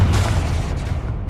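A Confringo blasting-spell explosion in a Harry Potter video game, one loud booming blast up close that rumbles and fades over about a second.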